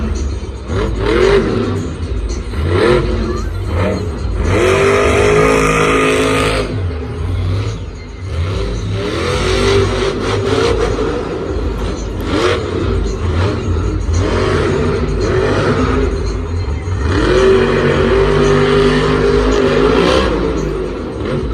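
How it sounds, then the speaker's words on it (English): A monster truck engine revs and strains at a Monster Jam event in Santa Clara, loud and sustained with rising and falling surges, and crowd noise and commentary run underneath. "Nice air, but it seems like the truck's straining a little bit."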